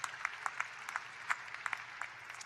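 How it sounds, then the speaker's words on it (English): Graduates at a winter undergraduate commencement applauding themselves, with scattered distinct handclaps popping over a soft, distant bed of crowd clapping. "So please, give yourselves a round of applause for reaching this monumental moment"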